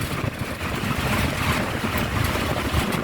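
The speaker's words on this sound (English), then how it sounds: "Engine is running for the person who wants to buy it." A Toyota Land Cruiser Troopy engine runs steadily throughout, a continuous low rumble with broad noise on top and no voices.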